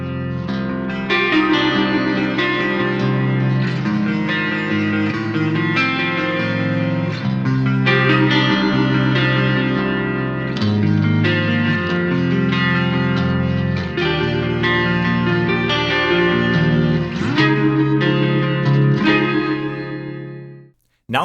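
Clean electric guitar tones through a Tech 21 Paul Landers Fly Rig pedal, played as continuous loud chords and arpeggios with a chorus-like shimmer and reverb for about twenty seconds, ending abruptly.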